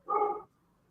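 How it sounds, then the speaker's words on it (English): A neighbor's dog put outside gives a single short bark, fairly clear and mid-distance, followed by quiet. "my neighbor's dog's been put outside and just getting it out of his system"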